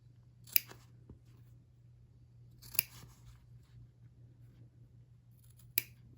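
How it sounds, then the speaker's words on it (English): Scissors snip through fabric to cut out a zipper box on a pouch, three short, crisp cuts spaced a couple of seconds apart, close and quiet over a faint steady hum. "snip up to that cross line and then snip across"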